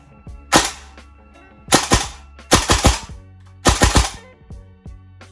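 Four short bursts of sharp, snappy shots from a Ra Tech nozzle replica gun fired semi-automatically, each burst a quick cluster of cracks separated by about a second of quiet, close and crisp.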